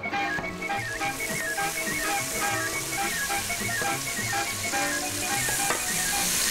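Pancetta sizzling and frying in a pan with onions and garlic, a steady dense crackle that stays loud and close throughout, with faint clinks of utensils and no talk.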